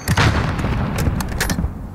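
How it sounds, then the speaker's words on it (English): A mortar explosion in Modern Warfare, heard as a loud, close boom with a rumbling low tail and a few sharp cracks over about two seconds, with no talk over it. "There's still a mortar out there."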